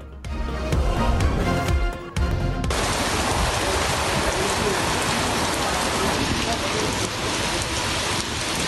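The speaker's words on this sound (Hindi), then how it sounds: "पंजाब के मुख्तलिफ शहरों में जालाबारी और बारिश" Heavy rain falling steadily during a spell of showers and hailstorms across cities of Punjab, a loud, dense hiss of drops on surfaces that carries on unbroken after a short opening burst of other sound.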